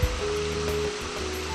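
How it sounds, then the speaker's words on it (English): Water rushing beneath a weir bridge, a steady broadband roar heard close by, with a faint tonal hum underneath and no talking. "There was water flowing underneath it, and it made a pretty loud noise"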